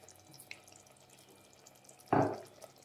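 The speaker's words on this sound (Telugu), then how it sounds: "దీనిలో కాస్త వాటర్ యాడ్ చేయాలండి" Water splashes briefly into a pan of masala curry during cooking, a single short pour that rises suddenly and fades within half a second against quiet kitchen background.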